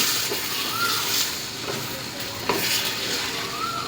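Ivy gourd (dondakai) gravy curry stirred in a pan, with a steady sizzle and soft scraping strokes under it and a few sharper clinks of the utensil against the pan.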